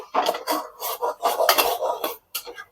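A spoon scraping and knocking inside a metal pot while mutton masala is stirred and sautéed with small splashes of water for a Konkan-style mutton curry, with repeated close, clattering strokes in an irregular rhythm.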